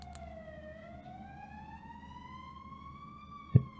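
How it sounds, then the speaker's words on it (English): An ambulance siren in the horror game Cold Front wails in a single slow, smooth sweep that dips and then rises, steady and moderately distant, ending with a brief thump. "Is that siren an ambulance?"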